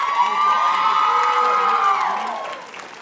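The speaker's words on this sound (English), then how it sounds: "give them a round of applause from your heart for getting you where you are here" Large commencement crowd at a summer graduation ceremony cheering and applauding faculty, a dense roar of clapping and whoops that swells then fades toward the end.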